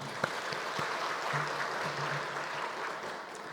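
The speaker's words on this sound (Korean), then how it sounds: "우리 감사의 박수 드리겠습니다." A church congregation applauds the choir, its conductor and accompanist at an Easter service. The clapping is soft and steady, heard from a distance with some hollow room echo, and lasts a few seconds.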